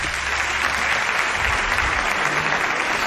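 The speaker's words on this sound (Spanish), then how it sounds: "Os pido un aplauso para él." Audience applause in a theatre during a Spanish stage show, loud sustained clapping from a full house that holds steady throughout, with no speech over it.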